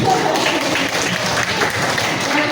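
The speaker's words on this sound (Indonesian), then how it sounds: "Tepuk tangan dulu." Classroom applause for a sixth-grade student during a coding lesson, loud and continuous clapping from children close by, with some voices mixed in.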